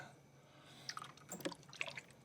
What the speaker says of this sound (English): I'm going to go ahead and fill it up with water